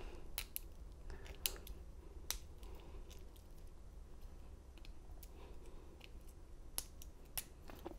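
Single pin picking of a USPS mailbox lock with a multi-pick, a close, quiet series of sharp metallic clicks and ticks scattered irregularly, with no talking.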